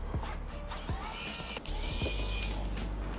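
Torx T8 screws being driven out of a PlayStation 4 CUH-1001 power supply with a screwdriver, giving a steady close mechanical whir with several brief clicks and ticks over about three seconds.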